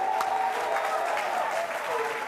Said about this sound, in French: Est-ce que tu peux acclamer très fort Jésus de Nazareth?